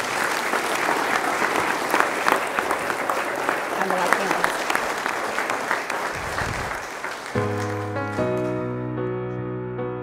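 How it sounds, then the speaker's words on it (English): Wedding ceremony guests break into steady applause for the newly married couple, a dense round of clapping that fades as a piano and singing voice begin near the end. "Applause are good here."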